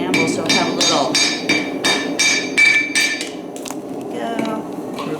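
A hammer strikes hot steel over the edge of an anvil in a string of about eight sharp, ringing blows at a steady rhythm, then a few lighter taps follow, close and clear.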